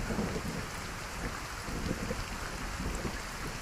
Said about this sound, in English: The rain intensified.